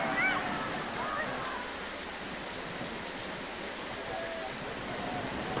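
Pouring rain at a cricket match, a steady soft hiss of rainfall heard continuously at moderate level, with faint voices in the background.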